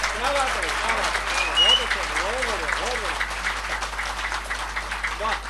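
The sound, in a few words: audience applause at poetry recital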